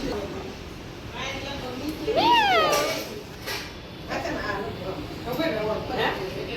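A tame domestic cat, fed milk every day and used to people, meows several times in rising and falling calls, close by, over steady background noise and voices.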